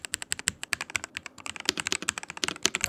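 Fast, crisp keystrokes on a HIGROUNDS gaming keyboard clatter close up in a dense irregular stream of clicky taps, with no voice.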